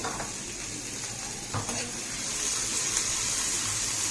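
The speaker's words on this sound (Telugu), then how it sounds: "కొంచెం నెయ్యి వేసుకొని కొంచెం ఆనియన్స్ డీప్ ఫ్రై చేసుకుందామండి" Onions deep frying in ghee for Hyderabadi chicken haleem, a continuous bubbling sizzle with a couple of stirring knocks and scrapes, steady and close, growing slightly louder toward the end.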